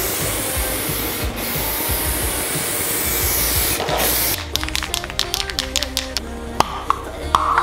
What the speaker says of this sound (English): This is by far the biggest thing I've ever attempted to paint with an aerosol.